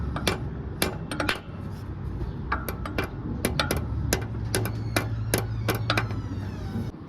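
Light hammer taps ring out on a Fox body car part, a sparse series of sharp metallic clinks spread unevenly over a low, steady rumble in the background.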